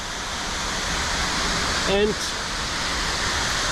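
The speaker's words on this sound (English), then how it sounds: "this is, in my opinion, the most beautiful waterfall in Slovenia" Waterfall in Slovenia, a steady broadband roar of falling water filling the whole clip, with a brief spoken word from a man near the middle.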